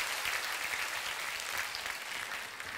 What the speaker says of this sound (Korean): 다시 한번 힘찬양대에게 뜨거운 박수로 음악 응원을 드리겠습니다